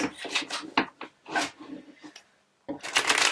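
Tarot cards are shuffled and handled up close, a series of quick papery riffles and slides in short bursts separated by a brief silent gap, with no talking.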